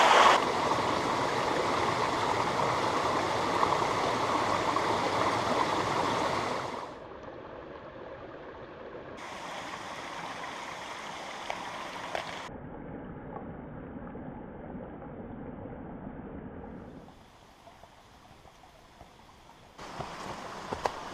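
A mountain brook near Zealand Falls flows steadily on a hike, its broadband rushing loud at first, then softer and fluctuating as the position changes, with intermittent bursts of brighter water noise.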